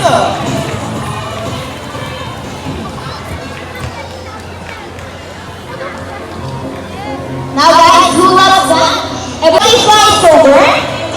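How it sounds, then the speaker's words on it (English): Crowd at a bird show in an ocean park cheering and applauding, children shouting and chatter throughout, with louder bursts of cheering toward the end. "a round of applause for Sassy with Trainer April."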